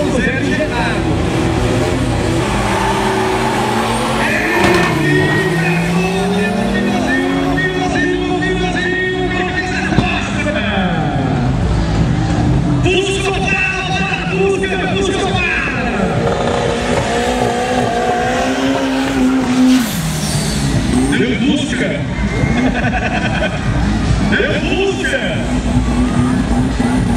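Turbocharged Opala with triple Webers and a turbo Fusca with an injected AP 2.0 engine drag racing, their engines roaring and revving loudly throughout with rising and falling pitch under an excited commentator's voice.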